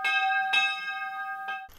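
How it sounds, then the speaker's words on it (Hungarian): A church bell tolls at a memorial ceremony honouring those who returned home, with two struck peaks and a long ringing, sustained tone between them, heard clearly without talk. "A megemlékezés végén a hazatértek tiszteletére harangszó csendült fel"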